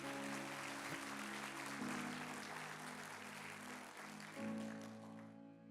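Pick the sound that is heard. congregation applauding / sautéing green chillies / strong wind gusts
congregation applauding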